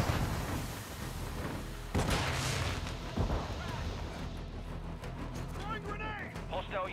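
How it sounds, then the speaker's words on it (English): Call of Duty: Modern Warfare II match with heavy booming blasts and bursts of gunfire layered together, loud and continuous, while game voices call out over the combat. "Throwing a stun grenade!"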